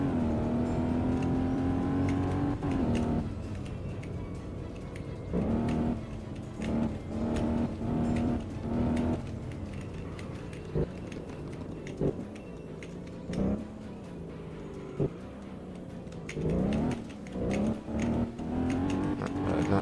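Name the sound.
Alfa Romeo 8C Spider engine in racing video game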